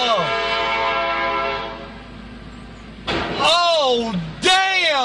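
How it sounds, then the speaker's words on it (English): A train sounds its horn at a crossing, where it strikes a watermelon truck: a long loud blast, then two more strong blasts close by, with people's voices mixed in. "There goes the train."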